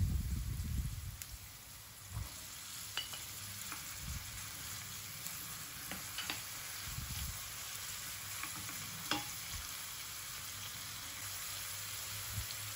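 Onion and capsicum frying in a pan for Mumbai-style pav bhaji, a steady soft sizzle running throughout with a few stirring clinks and scrapes, fairly quiet and without talk.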